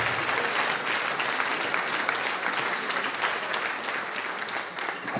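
Sustained audience applause for a film director at a festival screening, dense steady clapping from a large crowd that continues evenly throughout without pause.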